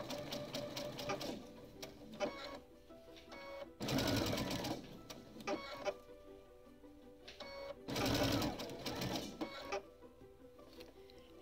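A sewing machine stitches quilt seams on a Dresden plate flower in short quiet bursts of rapid mechanical whirring, with two longer, louder runs, separated by pauses and faint handling noises.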